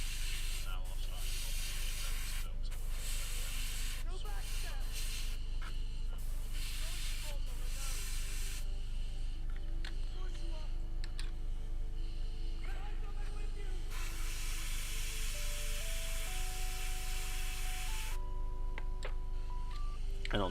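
Airbrush paint spraying onto miniature tabletop wargaming swords and shields, a steady close hiss that comes in bursts over a constant mechanical hum, with other sounds layered over it.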